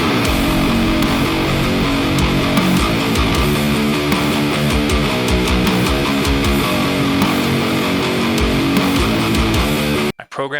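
A heavy metalcore guitar riff chugs loudly and continuously in a full, thick wall of sound, then cuts off abruptly near the end.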